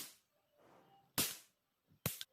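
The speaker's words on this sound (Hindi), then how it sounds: "10 रुपए की गन और उसमें डाली 1 रुपए की गन रोल की आवाज" A cheap toy cap gun loaded with a paper cap roll fires two sharp, loud pops about a second apart, each one brief and cracking, with quiet rustling before them.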